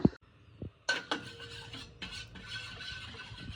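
Spoon clinking and scraping while stirring a warm hair oil mixture in a small metal bowl, with a few sharp taps at the start followed by steady soft scraping, close and fairly quiet.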